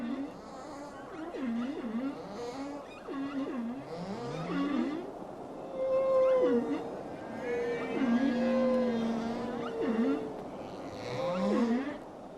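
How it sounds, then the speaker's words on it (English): A humpback whale sings during breeding season, long mournful moans and rising and falling whoops sweeping through repeated phrases, with deep groans and higher squeals echoing underwater, loud and continuous for the whole stretch. "His mournful calls can be heard by other whales up to 20 miles away."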